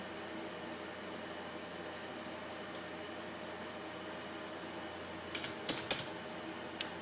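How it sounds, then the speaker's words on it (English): A few sparse, crisp keystrokes, including backspace presses, tap on a computer keyboard near the end, after a long stretch of steady room hum. "all I did was backspace because I knew I made a mistake and started over here"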